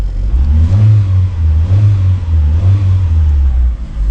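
A 2002 Mitsubishi Lancer OZ Rally engine revs loudly in repeated surges, a deep throaty roar rising and falling several times up close.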